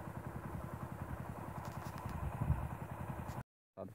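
A small motorcycle engine idles nearby with a steady low puttering, close and clear, then cuts out abruptly to silence just before the end.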